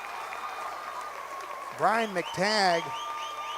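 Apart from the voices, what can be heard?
basketball crowd cheering and applauding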